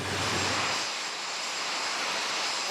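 Alpha Jet aircraft of the Patrouille de France taking off in tight formation, a loud, steady jet engine roar that fades slightly as the planes climb away.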